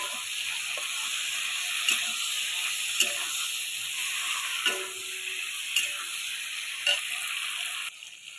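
Ridge gourd and eggplant fry in a pan with a steady, close sizzle, broken by soft spatula taps and stirring scrapes about once a second.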